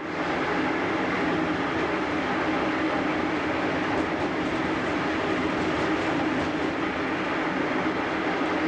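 A MÁV class 733 BoBo locomotive hauls HÉV cars along the line, heard as a steady, loud rolling rumble of wheels and carriage noise from on board, unbroken throughout with no talk.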